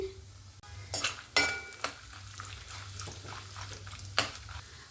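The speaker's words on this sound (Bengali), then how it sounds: "এবার ভেজে নেব আলমন্ড বাদাম।" Thinly sliced almonds fry in a pan, a quiet, close sizzle punctuated by a few sharp scrapes and clinks of a utensil against the pan.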